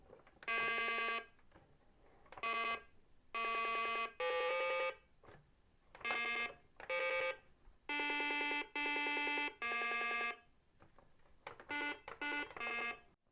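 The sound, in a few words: MB Super Simon electronic game playing its tones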